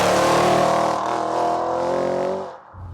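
A powerful 820 bhp hybrid-turbo Audi RS6 engine roars close by as it accelerates, its pitch climbing smoothly before dropping away abruptly at the end.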